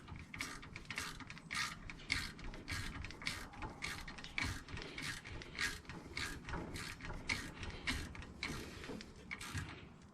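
A screw on a sway bar disconnect for a 1998 Jeep Cherokee XJ is tightened with a ratchet or wrench. Close, repeated rhythmic clicks and creaks sound in quick succession for about ten seconds, with no voice.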